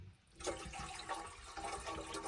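Water runs into a kettle inside a camper van, a steady splashing, gurgling flow that starts about half a second in and continues close by without any talk.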